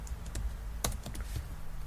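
Typing on a computer keyboard, a short burst of irregular key taps with one sharper clack, close and fairly quiet, with no one speaking.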